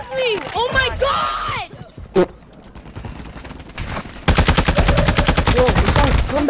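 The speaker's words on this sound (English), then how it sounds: "There's a guy sniping outside" Gunfire in an online shooter video game, with sniper shots: one sharp crack midway, then a long burst of rapid automatic fire, loud and close, while players shout and talk over it.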